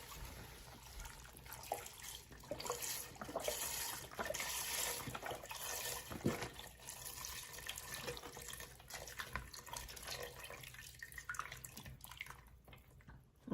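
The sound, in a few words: pouring vegetable broth into soup pot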